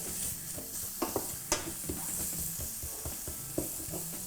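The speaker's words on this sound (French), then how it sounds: "Je vais mélanger le tout comme ça." Spices frying in hot oil are stirred in a pan, a soft steady sizzle broken by several sharp scrapes and clicks of the utensil, close and fairly quiet with no talk.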